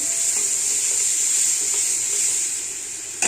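Garlic frying in hot oil with well-browned onions in a pan for a rohu fish curry, a loud continuous hiss and crackle held close throughout, easing slightly near the end.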